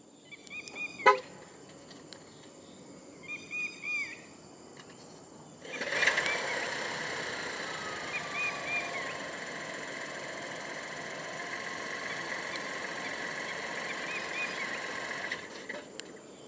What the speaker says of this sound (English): The X90 in Malaysia does come standard with a remote engine start system.